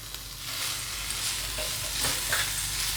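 Chopped coriander being stirred into green chilli thecha in a hot pan, a steady soft sizzle with light scraping strokes close by, no voices.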